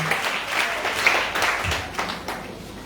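A church congregation applauds with steady, dense clapping that carries on throughout, fairly close and lively.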